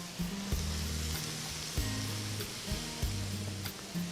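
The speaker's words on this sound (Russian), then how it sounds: "Чуть поджарим чесночок с грибами." Garlic and mushrooms sizzle steadily in oil in a cauldron over a campfire, a continuous close frying hiss broken by a few soft knocks and stirring scrapes, with no talk.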